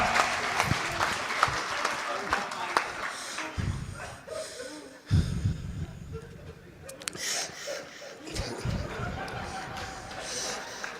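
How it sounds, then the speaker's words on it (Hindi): Audience applause at a Hindi comedy poetry show, a crowd clapping in bursts that swell and fade, with laughter, shuffling and a performer's voice talking over parts of it. "एक जोरदार तालियां भाई"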